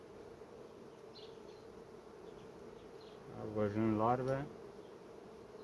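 Honey bees drone steadily from an open hive held in a beekeeper's hand, a dense close hum that swells briefly mid-way as a voice speaks a few words.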